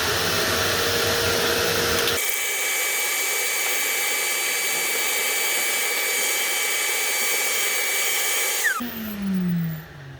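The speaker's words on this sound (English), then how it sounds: "So I'm going to turn on my vacuum real quick. It's going to be loud," A vacuum cleaner switches on abruptly and runs with a loud, steady, high-pitched whine for about six seconds before shutting off and winding down.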